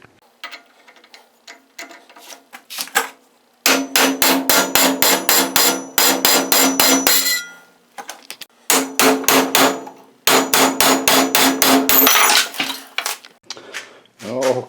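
A hammer striking a socket to drive out a Ford Escape's front wheel hub during a wheel bearing replacement: loud rapid bursts of ringing metallic clangs, close by, separated by short pauses.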